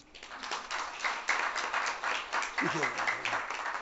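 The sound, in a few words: audience applause at a workshop lecture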